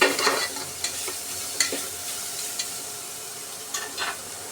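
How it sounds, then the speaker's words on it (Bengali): Vegetables with broccoli pieces stirred and lightly fried in a pan for a baby's khichuri, giving a steady soft sizzle with scraping spoon strokes at intervals, close and alone. "এবার সমস্ত সবজিগুলো নেড়ে ফেলে আরও হালকা একটু ভেজে নিচ্ছি"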